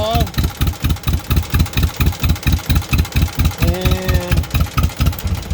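A John Deere M crawler tractor idles right before shutdown, its engine thumping in a steady, even rhythm close by, with a short higher whine partway through.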